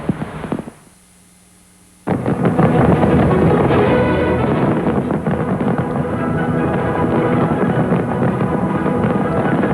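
Fireworks display over Hong Kong harbour at the 1997 handover, a loud continuous barrage of bursts and booms after a brief lull, dense crackling and thudding explosions filling the scene.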